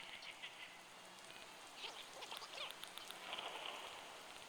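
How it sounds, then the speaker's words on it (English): Soft, steady rain patters on an island in a cozy video game, a faint continuous hiss with scattered light drop ticks and no talking. "Listening to the radio and the rain sounds is actually so cozy."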